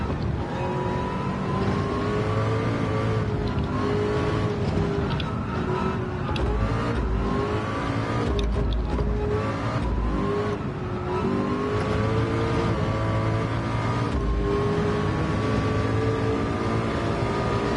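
Race car engines roar and rev continuously in the Le Mans VR racing game, with a pursuing McLaren closing in; steady loud engine drone with shifting pitch and occasional gear changes throughout.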